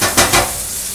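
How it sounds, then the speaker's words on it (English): Sliced onion and minced garlic sautéing in a pan, two quick stirring scrapes over a continuous hiss of sizzling oil, close up and without speech. "we're going to put 1 onion sliced up pole to pole, that's going in, and some garlic"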